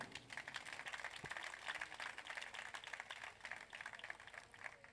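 An audience applauds the French ambassador at a university concert, a steady wash of many hands clapping continuously at moderate distance, fairly quiet throughout.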